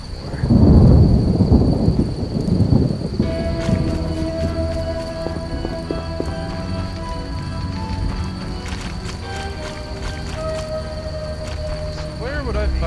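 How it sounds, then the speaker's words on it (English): In The Witcher video game, a heavy downpour is accompanied by a loud rumble of thunder at the start. After that, a steady hiss of rain continues alongside ambient game music. "What a downpour."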